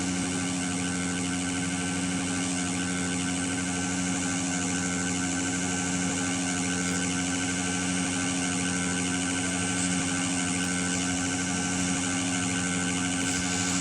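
A helicopter in the video game PK XD drones steadily with a constant low hum and engine whine, unbroken and fairly quiet, with no one talking.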